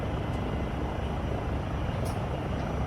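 A Eurocopter helicopter in Microsoft Flight Simulator 2024 gives a steady, loud rotor and turbine roar with no break and no talking.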